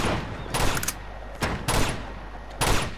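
Rapid bursts of gunfire in the video game Uncharted 2: Among Thieves Remastered, three sharp volleys over a constant background din.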